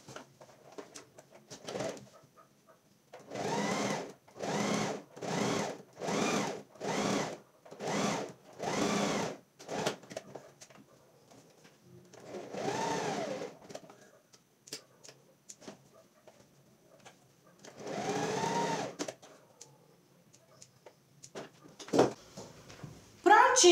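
A sewing machine stitches along the fold of a simple dish towel in a series of short, even bursts of rapid whirring, then longer runs later, with quiet pauses between them.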